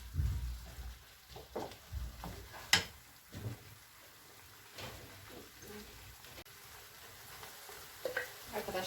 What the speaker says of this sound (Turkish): Bu şekilde kavruluyor kıymam.